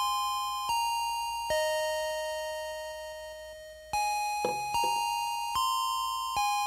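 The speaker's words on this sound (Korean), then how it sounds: "또 가장 많이 듣는 추억의 종소리 하나 더 들어보시겠습니다" A nostalgic school bell chime plays a slow electronic ding-dong melody: a series of clear, ringing notes, each struck sharply and left to decay, sounding alone in a quiet room.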